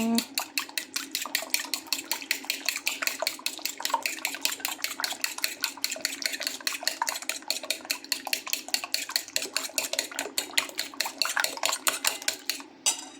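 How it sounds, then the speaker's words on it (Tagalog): Evaporated milk being whisked for French toast, a fast steady run of sharp clinking strokes of utensil against bowl, close and continuous, with no talk over it. "Haluin na natin siya."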